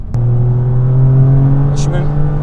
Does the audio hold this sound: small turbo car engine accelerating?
yes